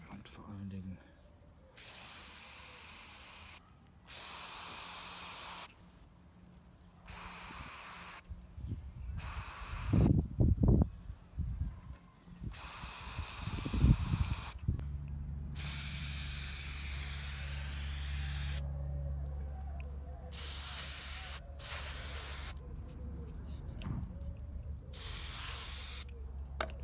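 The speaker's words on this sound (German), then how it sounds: "Die Antriebselemente sind soweit mit dem Kettenreiniger eingesprüht." F100 chain cleaner sprayed from an aerosol can onto the drivetrain of a Litespeed titanium bike, a series of hissing bursts of varying length separated by short pauses, close and loud, with someone speaking between sprays.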